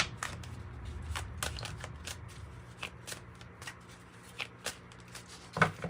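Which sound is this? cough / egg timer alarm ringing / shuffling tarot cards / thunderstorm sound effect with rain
shuffling tarot cards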